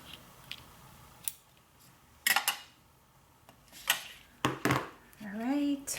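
Scissors snipping through paper for pastel Halloween spider tags, a few crisp close cuts spaced out over several seconds, with a brief voice near the end.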